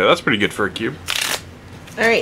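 A Magic: The Gathering Modern Masters 2015 booster pack is ripped open in one short, crisp crinkling tear, set between stretches of close speech.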